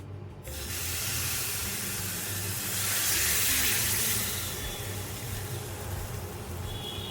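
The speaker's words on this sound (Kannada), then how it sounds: "ಈಗ ಇದಕ್ಕೆ ಬೇಗ ಒಂದು ಒಗ್ಗರಣೆ ಹಾಕಿಬಿಡೋಣ." Loud steady sizzling and spitting as spices are tempered in hot oil for a chutney, a continuous hiss that swells midway and holds for several seconds.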